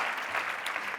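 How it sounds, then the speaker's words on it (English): Dense, steady applause from a large audience fills a conference hall at an annual meeting, continuous and fairly loud throughout, with no pause. "oh, you can applaud for Theo chocolate"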